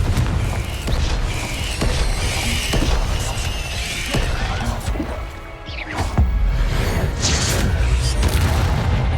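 Confringo and Incendio spell blasts in Hogwarts Legacy, a rapid series of booming impacts, crackles and crashes, loud and close, with a short lull before the blasts resume.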